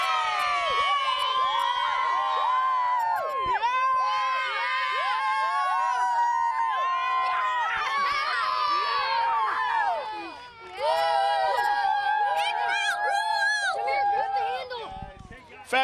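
Young boys' hockey team in a huddle shouting their cheer together after a youth match, loud overlapping children's voices and yells filling the whole clip, with a brief dip near the end.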